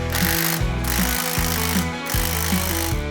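Impact wrench hammering in short bursts while tightening the bolts on an Auger Torque trencher boom kit, loud rattling blows close by, stopping and restarting several times.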